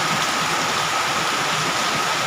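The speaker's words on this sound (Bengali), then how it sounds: "এই দেখুন আমাদের ডিগলিপুরে এত পরিমাণে বর্ষা হচ্ছে, সকাল থেকে দুপুর পর্যন্ত একভাবে বর্ষা হয়ে যাচ্ছে।" Heavy monsoon rain falls steadily in Diglipur, a dense, unbroken hiss that stays loud and even throughout, with no voices.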